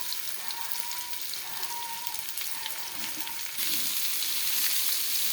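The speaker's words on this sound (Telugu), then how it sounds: "శనగపప్పు, ఆవాలు, స్పూను జీలకర్ర, ఒక ఎండుమిరపకాయ, కరివేపాకు మనం తాలింపులో వేసుకోవాలండి." Continuous hissing sizzle of chana dal, mustard seeds, cumin, dried red chilli and curry leaves crackling in hot oil, close by, growing louder and denser near the end, with no talking.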